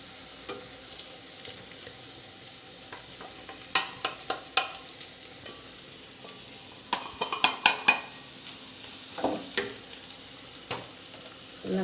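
A spoon stirs fenugreek leaf fry with ground peanut mixture in a pan, soft sizzling underneath with clusters of sharp scraping clinks against the metal in the middle and near the end.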